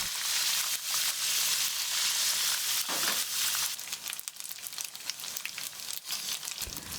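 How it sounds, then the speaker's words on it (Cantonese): Tofu cut into thumb-size cubes fries in hot oil in a wok, giving a steady, dense sizzle and crackle that runs throughout, slightly softer and more uneven in the second half, with no talking. "once the oil is heated up， 你先落你嘅豆腐。"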